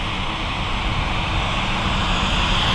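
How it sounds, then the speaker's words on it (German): An Emirates airliner rolls onto the runway at Frankfurt Airport, making a steady, loud engine roar with broadband rumble and hiss that holds constant with no voices. "Weil die Emirates auch gerade auf die Bahn rollt."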